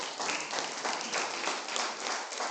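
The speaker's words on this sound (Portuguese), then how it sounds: "Vamos aplaudir o nome do Senhor." Congregation in a church applauding, a dense wash of clapping, steady and moderately loud for a few seconds with no clear voices on top.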